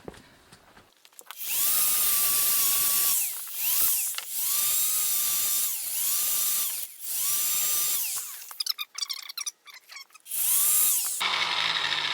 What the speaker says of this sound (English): we need to get all of this, the rest of this weld off and get it nice and flat so it'll slide through